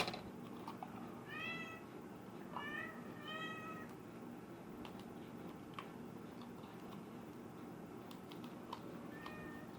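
A pet cat meows several times in short rising calls, spaced through the middle of the stretch over a steady low indoor hum with faint ticking.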